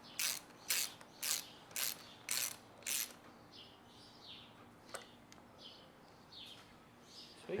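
A 10mm ratchet wrench loosens boat motor anode bolts with a series of about seven sharp, evenly spaced clicking bursts, close up, followed by fainter intermittent clicks and chirpy squeaks.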